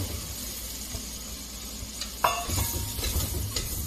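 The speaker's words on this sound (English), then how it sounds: "We dump in our flour after the butter's been melted and make a nice roux." Flour being stirred into melted butter in a pan to form a roux, a soft steady sizzle with a sharp clink of utensil on pan, then busier scraping and stirring, close by and without speech.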